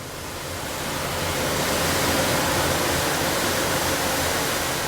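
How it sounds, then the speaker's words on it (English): Hawaiian ocean waves heard from the balcony of a Pride of America cruise ship make a steady, broad rushing wash that swells slightly and then holds constant, with no voices. "You can just leave your balcony door open and hear the Hawaiian ocean."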